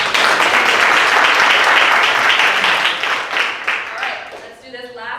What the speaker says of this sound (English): So just give yourself a round of applause.